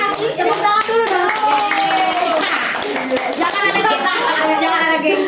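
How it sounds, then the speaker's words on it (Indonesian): A group claps hands together during a lively talk session with young people, sharp rapid claps layered under overlapping voices and chatter that stay close and loud throughout. "Tepuk tangan dulu dong."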